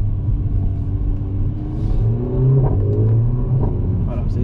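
A Mercedes A45 AMG in sport plus mode rumbles and revs nearby, a deep engine drone with occasional sharper pops, while someone talks over it.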